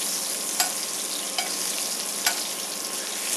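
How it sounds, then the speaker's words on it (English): Chilean sea bass basted with hot oil in a pan: a constant close sizzle punctuated by three soft clicks of the spoon against the pan at regular intervals. "Keep basting it a little bit more because the heat is still here in the oil."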